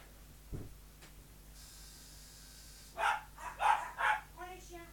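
Several dogs bark in a short burst of three or four loud yaps near the end, after a quiet domestic stretch with a single thump and some faint hiss.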